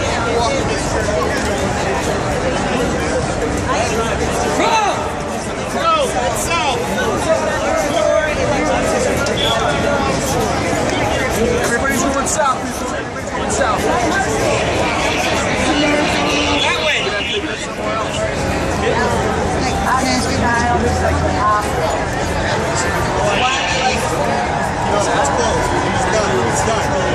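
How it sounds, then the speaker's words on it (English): A dense crowd of people walking toward an entry, with steady babble of many voices and footsteps filling the whole stretch at constant loudness, while nearby people talk over the hubbub. "we got a crowd of people walking this way"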